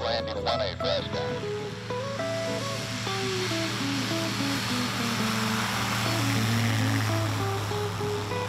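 Bush plane taxiing for takeoff at a mountain airfield, its propeller engine humming steadily at low power, moderately close, under a musical background with faint crowd ambience.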